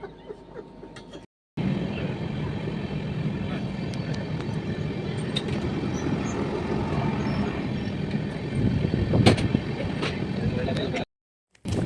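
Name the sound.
train running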